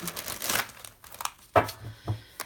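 Soft papery riffling of tarot cards being shuffled, a few crisp bursts with pauses between, close and fairly quiet.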